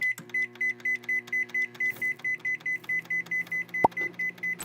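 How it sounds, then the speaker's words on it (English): A microwave oven runs with a steak inside, giving a low electrical hum that pulses in an even rhythm, paired with a faint repeating high tone. A single sharp click cuts in near the end. "We're gonna add our steak to the microwave."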